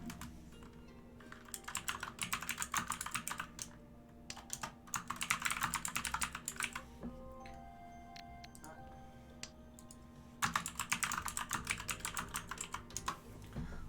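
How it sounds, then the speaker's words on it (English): Rapid clattering keystrokes on a loud computer keyboard, coming in bursts separated by brief pauses, close and fairly quiet overall with no voices. "do you think I should get a keyboard that's not as loud when I'm trying to type?"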